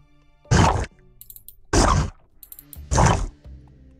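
Three separate bursty, swelling effects from the video game Voidigo, played as parts spread and grow in, each about a third of a second long and evenly spaced, loud and isolated with near silence between them.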